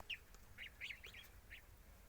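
Geese and Chinese geese calling in a yard, a handful of short honking and quacking calls scattered over two seconds, faint and somewhat distant over low background rumble.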